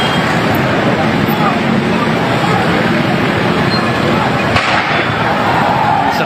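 Explosions ring out as the DPRD building in Makassar burns during a mass demonstration, with a dense, loud roar of crowd and street noise and a sharp bang cutting through near the end.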